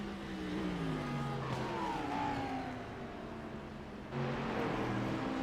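GT3 race cars run side by side through the bus stop at Watkins Glen, with engines droning and shifting pitch as they corner and a fresh surge of revving near the end. The sound is steady and fairly close, with no talk.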